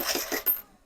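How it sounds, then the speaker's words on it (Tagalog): A coin counting machine on short mode, with old coins spinning and clattering through it. Short, fairly quiet bursts of metallic jingling rattle along briefly before cutting off into silence. "Ikot lang siya ng ikot hanggang maubos lahat ng barya dyan."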